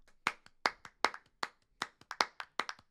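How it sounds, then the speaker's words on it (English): A single person claps hands close to a studio microphone for a shout music loop, giving about a dozen sharp, dry claps in a loose, uneven rhythm with brief gaps between. "Then we went old school and we just used some regular hand clap. So I got in this microphone right here and started clapping."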